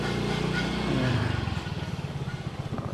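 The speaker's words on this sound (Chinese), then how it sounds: "还好我有个小摩托" A small motorbike rides through a street in Malacca, Malaysia, its engine droning, then settling into a rapid, close putter.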